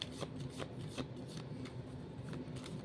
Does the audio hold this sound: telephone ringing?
no